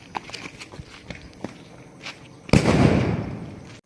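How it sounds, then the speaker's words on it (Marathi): A single firecracker bursts with a sharp, loud crack in the morning air, following a series of light scattered taps and footsteps, then a brief rumbling tail before fading out. "आज आम्ही थोडे सकाळी फटाके फोडू"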